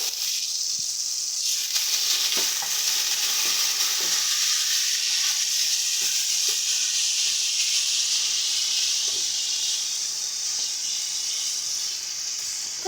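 Pumpkin pieces fried with spices hiss in a pan as water goes in, giving a loud, steady sizzle with a few faint clicks throughout.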